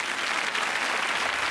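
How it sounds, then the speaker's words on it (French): A theatre audience applauds magician Stéphane Léchène at a magic show: steady, dense clapping held at an even level throughout, with no talking over it. "On l'applaudit."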